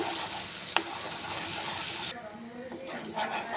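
Onion, garlic and green chili paste frying in oil in a wok, a steady broad sizzle throughout, with a brief clatter near the start and the hiss thinning and changing partway through.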